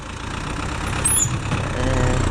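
An MTZ 952 tractor engine runs steadily while pulling a disc harrow across a garden plot beside a house, a continuous loud, rumbling drone that holds even throughout and swells slightly toward the end.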